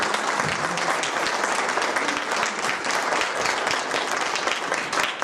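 A crowd in a museum applauds the engineer representing the mayor, dense and loud clapping that holds steady throughout with no break and no voices.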